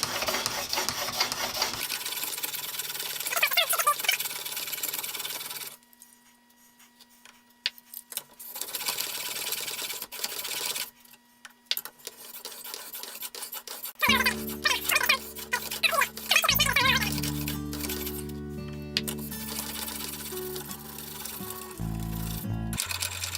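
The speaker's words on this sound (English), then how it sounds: "The sharpening is really just taking the established angle and polishing it up a bit." Blade of an antique Stanley No 8 hand plane being polished on a fine 6000 grit King S3 sharpening stone, rhythmic scraping strokes broken by short pauses, close and fairly loud, with no talk.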